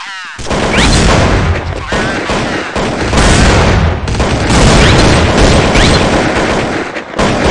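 Loud grenade explosions and gunfire boom and crackle through a round of Counter-Strike: Condition Zero on de_cbble_cz, dense and continuous with brief radio voice lines mixed in.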